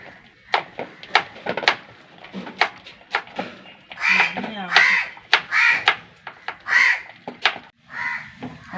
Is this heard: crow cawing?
yes